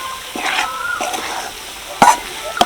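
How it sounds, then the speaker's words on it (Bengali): Gram flour laddu mixture is stirred in ghee, giving a gentle sizzle with scattered scraping strokes and two sharp clanks of the spoon against the pan near the end. "ভালো করে নাড়াচাড়া করে নেব"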